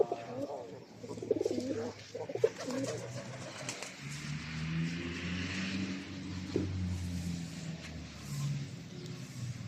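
Domestic pigeons cooing around their drinking water at a home coop, soft repeated throaty coos rising and falling close by over a low background hum.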